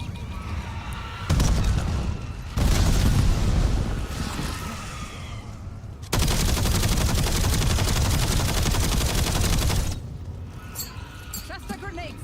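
Video game combat with a grenade blast and sustained automatic gunfire, loud dense bursts that come in two long stretches with a short break between them.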